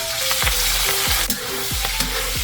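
Marinated adobo pieces sizzle loudly in hot oil in an old, well-used pan, a constant crackling fry with repeated scraping stirs over it.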